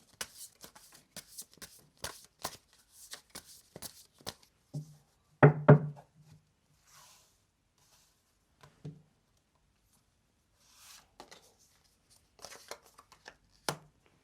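Tarot cards are shuffled by hand in quick papery riffles and taps, then go quiet before a few soft card slaps and a sharp snap near the end, close up and without talk.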